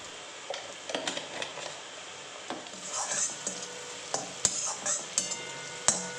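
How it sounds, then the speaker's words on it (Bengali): A large chopped onion fries in oil with salt and turmeric, crackling steadily while a utensil scrapes and stirs the pan in irregular knocks and clinks, close and moderately loud, no voices. "পেঁয়াজ ভাজার সময় দিয়ে দিলাম লবণ"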